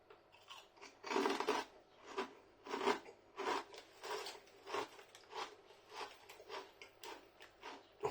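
Spicy crisps such as chorizo and cheddar, Scotch bonnet, Lay's Numb & Spicy and Doritos Dinamita are chewed up close, giving a run of sharp, rhythmic crunches, loud at first and then repeating steadily with no talking.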